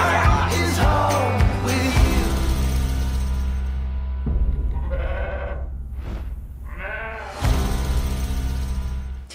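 Sheep bleat in wavering cries, several calls rising over a low, steady musical drone, with a sharp rustle and clatter early on and a quiet gap in the middle.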